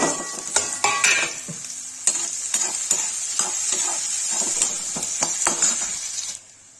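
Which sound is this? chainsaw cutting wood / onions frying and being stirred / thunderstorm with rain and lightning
onions frying and being stirred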